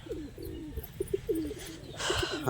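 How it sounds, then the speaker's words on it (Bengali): Free-flying domestic pigeons at a home loft coo in a series of soft, low, repeated calls close by, with a brief flutter of wings near the end and no talk. "আর এগুলো তো আমার বিভিন্ন বাড়ির পায়রা সব ছাড়া রয়েছে।"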